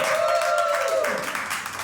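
Audience members at an open mic comedy show clap in a brief burst, with a sustained vocal tone carrying over the start before the applause thins out.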